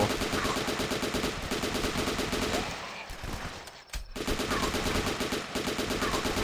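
Rapid gunfire from a weapon in the survival video game The Last Stand, dense continuous bursts with a short pause midway before firing resumes, moderately loud throughout.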